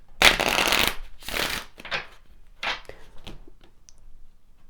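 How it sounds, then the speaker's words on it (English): Tarot cards being shuffled in several quick riffling bursts, the first loudest, then softer card handling trailing off, close by with no talk. "Let's pull some more cards."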